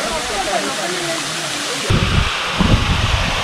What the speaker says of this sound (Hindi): तो फाइनली पटना वाटरफॉल पहुंच गए।